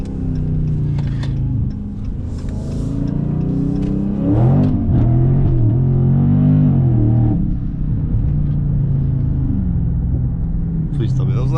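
A widebody Dodge Scat Pack's engine roars as the car accelerates up a highway on-ramp, its deep rumble climbing through rising revs in the middle stretch, while people talk inside the cabin.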